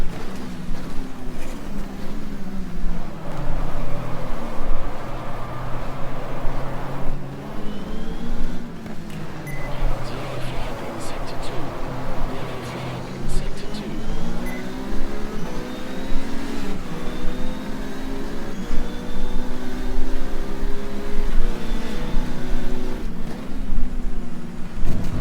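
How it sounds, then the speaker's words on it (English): Race car engines in the GTR2 racing game at Pacific Raceways, with a continuous close engine drone rising and falling through gear changes and revs, and other cars whining past in the background. "There is an Audi, a Frank Bila, coming out from the pits"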